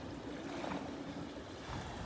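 Small waves ripple gently up a sandy beach at Delnor-Wiggins, a soft, steady wash with a faint swell near the middle and light wind noise throughout, no voices.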